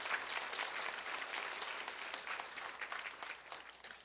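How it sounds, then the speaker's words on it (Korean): A church congregation applauds its teachers with dense, steady clapping from many hands. It fills the room evenly and holds for several seconds without a break. "여러분, 진심으로 그분들에게 감사하는 마음으로 박수로 격려해 주시기 바랍니다."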